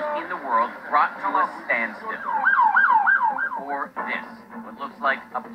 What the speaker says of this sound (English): That sounds like a fire alarm here.